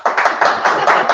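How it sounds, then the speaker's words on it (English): A small group applauds a guest at the end of an interview. Four or five quick, close, dry claps sound in a short burst with no talking. "Round of applause for our guest."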